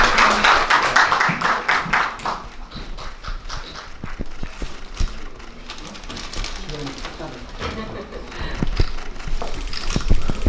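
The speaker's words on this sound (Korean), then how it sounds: "박수 한번 해주세요" An audience applauding at the 2025 National Assembly audit awards ceremony for top lawmakers: a burst of many hands clapping that thins to scattered claps over a murmur of voices and room noise.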